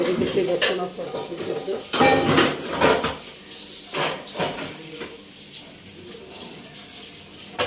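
Pieces fry in a pan until reddish, with intermittent bursts of sizzling and clattering stirs against the pan, close by, loud at first and then quieter with occasional sharp spikes.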